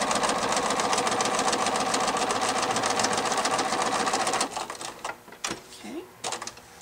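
A sewing machine stitches continuous bias quilt binding in a rapid, even chatter for about four seconds, then stops, followed by brief handling sounds and a voice.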